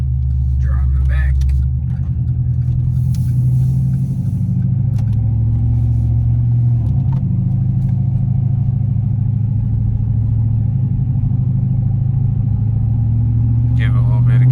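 A car engine rumbles steadily from inside the cabin while driving back after a check of plugs and plug wires, a low continuous drone with light revving, and a voice talks briefly.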